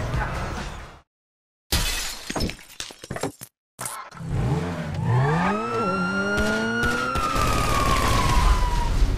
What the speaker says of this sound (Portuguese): O carro da polícia, Léo.